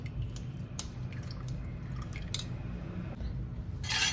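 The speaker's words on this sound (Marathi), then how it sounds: "आणि सगळं पाणी नितळून घ्यायचं" Water trickling and dripping as freshly made paneer drains in a colander set over a pot, with a steady wet flow, soft squishy drips and a brief louder splash near the end.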